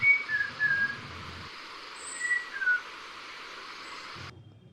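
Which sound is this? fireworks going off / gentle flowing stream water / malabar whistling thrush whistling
malabar whistling thrush whistling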